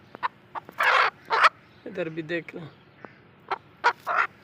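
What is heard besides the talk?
black hen clucking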